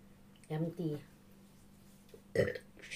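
A person burps twice, close and fairly quiet: a short double belch, then after a pause a single stronger one, in a quiet room.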